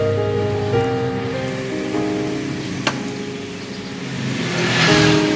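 A car engine idles and hums nearby as the vehicle slowly creeps backward during parking practice, the engine note swelling slightly toward the end.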